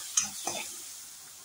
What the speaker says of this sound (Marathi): हे परत एकदा त्याच्यात मिक्स करून घ्यायचं.